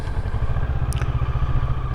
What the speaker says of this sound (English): Park the bike, kill the engine,